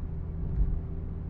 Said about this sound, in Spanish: espero que no se escuche demasiado el ruido del motor o el camino